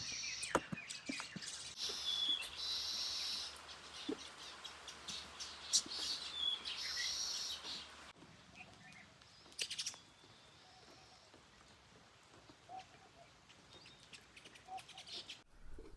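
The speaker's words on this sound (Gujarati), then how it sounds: "ચારે બાજુ પક્ષીઓનો એટલો કલરવ" Busy bird chirping and tweeting on a village farm fills the first half, bright and layered, then thins to sparse, fainter calls over quiet background.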